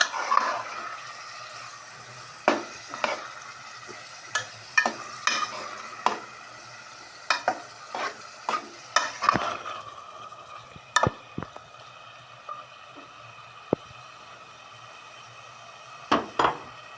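Minced meat stirred into browned onions and frying over high heat, a low sizzle under frequent sharp clanks of a metal spoon against the pan.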